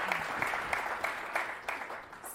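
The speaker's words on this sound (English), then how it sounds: "So if we can welcome them with an applause," Audience applause welcoming a panel at a climate event in a museum, steady moderate clapping from a modest crowd with individual claps standing out, at a middle distance.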